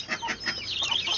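A chicken clucks close by in a short run of quick, choppy calls, fairly loud and with no voices over it.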